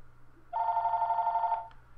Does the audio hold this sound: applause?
no